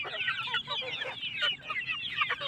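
Hmong chickens in a hill-village yard cluck softly while pecking at grass, with a steady murmur of overlapping short calls from the flock at close range.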